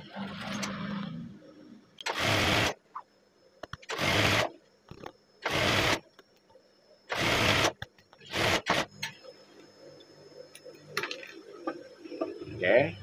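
A sewing machine stitches the side seam of a garment in a series of short, separate bursts with quiet gaps between them, against a faint room background.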